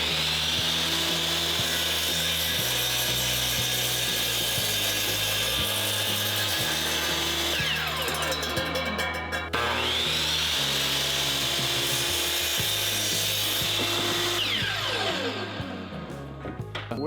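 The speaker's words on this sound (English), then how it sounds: "Our miter saw. And we're going to cut this bad boy. About to saw it in half." A miter saw cuts through a wooden piece for a serving tray build, its loud whining motor surging as the blade bites, with two long cutting passes and spin-downs close by.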